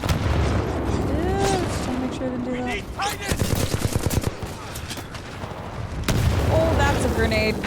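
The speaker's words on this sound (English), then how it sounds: "Oh, that's a grenade." Gunfire and explosions from a shooter video game, with a sharp grenade-like blast burst near the middle amid ongoing shots and a voice talking over it.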